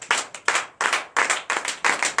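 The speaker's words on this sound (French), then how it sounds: "Si toi tu veux dire je reçois, donnez l'acclamation à Jésus." A church congregation claps in acclamation to Jesus during a night deliverance and prophecy service, producing loud, close clapping in several quick rhythmic bursts separated by short pauses, with no talk.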